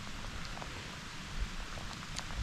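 Steady rain falls during a deer hunt outdoors, a soft continuous hiss with a few faint drips, fairly quiet throughout.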